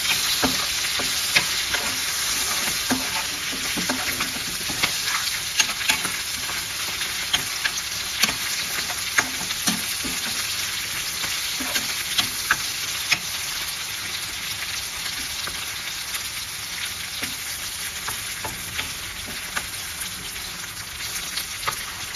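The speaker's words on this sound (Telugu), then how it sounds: "టమోటా అనేది కొంచెం ఇలా ఇలా వేగితే చాలు" Chopped tomatoes fry in a pan for a methi potato curry, giving a steady, close hiss and sizzle with occasional stirring scrapes over the full length, and no talk.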